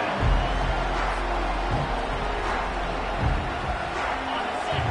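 Football stadium crowd during a Georgia Tech versus Georgia game, a broad sustained roar of many voices filling the background under ongoing talk.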